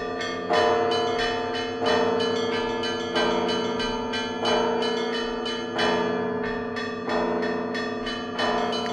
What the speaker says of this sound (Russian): подарила два колокола больших, и они до сих пор звучат на нашей колокольне.